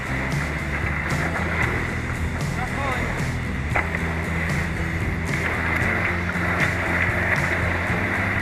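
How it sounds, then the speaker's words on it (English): A sailboat heading out to sea from Roatan in a southeast wind, with a steady wash of water and wind around the hull and a low continuous rumble, and speech over the top. "we raised our sails and headed out of rRoatan"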